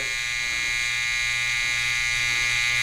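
Inexpensive Chinese electric hair clippers buzz steadily as they trim around the ear, a constant high-pitched motor whine held close and loud throughout with no talking.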